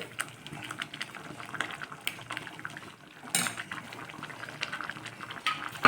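Sambar with dal and tamarind water simmering in a pot, a steady bubbling hiss with scattered clinks of a ladle and pan throughout, fairly close and moderately loud, no talking.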